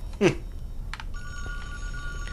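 A telephone rings inside a cabin in the Friday the 13th: The Virtual Cabin video game, a steady electronic ring tone sounding at moderate loudness after a brief vocal sound, with no talk over it.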